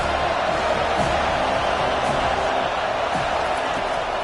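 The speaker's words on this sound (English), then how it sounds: "This crowd knows when to bring it." A football stadium crowd in a college football video game cheers in a dense, continuous roar, with scattered whoops and thumps rising out of the steady noise.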